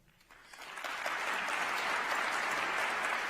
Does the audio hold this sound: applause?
yes